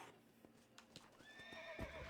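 Horse in Red Dead Redemption gives a loud, rising whinny near the end, preceded by soft rhythmic clip-clop hoofbeats and steady game ambience throughout.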